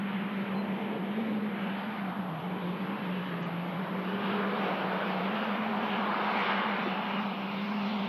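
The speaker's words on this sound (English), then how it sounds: "Smithy's got eyes on the North Dreamliner, which is just pushing back." Boeing Dreamliner jet pushing back on the apron at Manchester Airport, a steady loud engine drone with a low hum held evenly throughout, no talk.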